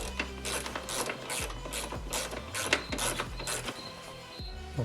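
A ratchet wrench tightening the hood latch on an E90 BMW, giving a close, steady run of rapid mechanical clicks in repeated strokes.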